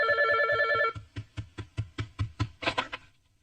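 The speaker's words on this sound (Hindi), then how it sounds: "ओह, अब किसका फोन आ गया?" An indoor telephone rings with a steady electronic trill, then gives way to a run of about ten quick, close knocks or taps that fade out.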